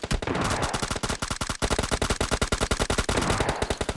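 Gunfire rattles through a battle royale video game: dense, rapid automatic shots fire in a continuous rhythmic stream, loud and close, with no talking.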